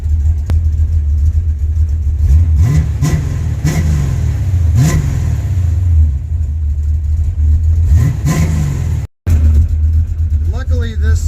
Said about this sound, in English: Standing right here in between them, I can't even hear Junior's car.